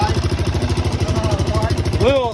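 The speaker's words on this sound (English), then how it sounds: "Little ticky tick. That's just valves." A Honda Rancher ATV engine idles close by with a fast, even chugging pulse and a light valve tick running through it, as a voice speaks briefly near the end.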